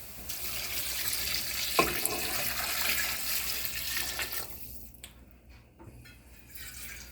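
Water pours steadily from a tap into a soup pot with barley for several seconds, then cuts off, leaving a few faint drips and clinks.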